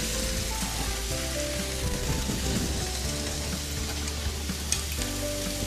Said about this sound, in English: Now we're gonna dump our noodles.